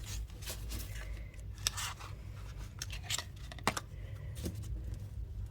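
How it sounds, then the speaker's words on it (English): Crisp riffling and snapping of playing cards being shuffled, several quick bursts of papery flicks close by, no voices. "Let's get a good shuffle."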